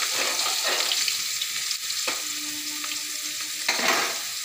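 Potatoes fry with salt and turmeric, a dense close sizzle and crackle with occasional scraping stirs and a brief metallic ring, steady throughout and unaccompanied by speech.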